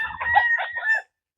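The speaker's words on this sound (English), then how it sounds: "if you're wondering who that weird crow is" A white rooster on a sunny farm gives one odd, wavering crow, loud and close, lasting about a second before cutting off into silence.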